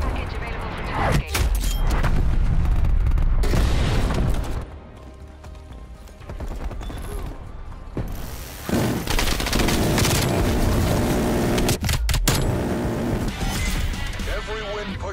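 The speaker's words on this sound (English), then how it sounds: "Artillery targeting detected. Artillery inbound." Artillery strike explosions in a video game, heavy rumbling booms layered over continuous battle noise and gunfire, with a voice speaking over the loud, dense din.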